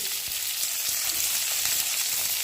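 Red chilies and garlic frying in hot oil in a pan for a chili chutney, a close, steady, dense sizzle that holds evenly throughout with no voices.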